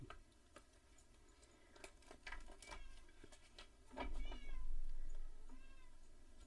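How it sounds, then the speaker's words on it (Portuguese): A black cat meows nearby, a few short calls and then a longer drawn-out one. Soft ticking and light patter sound faintly in a quiet indoor room. "a minha gata preta da sorte. Pronto, já tem uma aqui atrás de mim."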